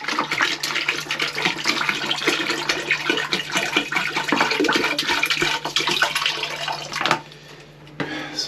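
Water rushes and gurgles steadily as it is poured into a drain on a sailboat, then stops abruptly near the end.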